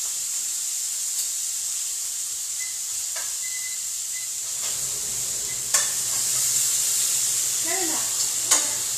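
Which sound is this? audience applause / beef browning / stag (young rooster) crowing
beef browning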